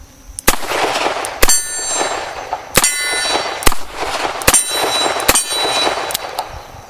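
A Colt Diamondback .38 Special revolver fired outdoors: about eight loud, sharp shots at uneven intervals, each leaving a ringing decay.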